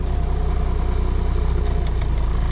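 A Cummins diesel engine idles roughly at very low RPM, barely running, with a steady, loud, low throbbing pulse that stays close and continuous throughout.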